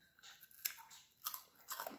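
Crisp crunching bites of a no-bake white chocolate rice ball cookie, three close, loud crunches spaced about half a second apart, with no talking.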